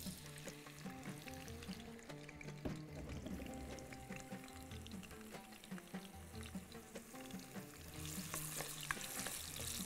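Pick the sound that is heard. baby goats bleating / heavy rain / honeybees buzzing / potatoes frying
potatoes frying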